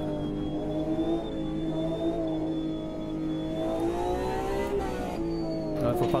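A Porsche GTE race car on the Nordschleife in Automobilista 2 holds a sustained, tonal engine whine that slowly rises and dips, with a brief shift near the end, while players chatter faintly over it.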